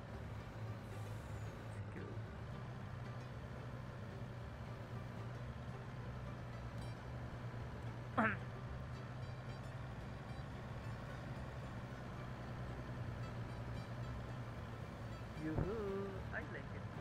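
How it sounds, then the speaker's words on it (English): A red fire truck's engine in a video game, holding a steady low idling rumble throughout, broken by a brief sharp hiss or clank near the middle and another near the end. "Alright, we will try using my fire truck, my friends."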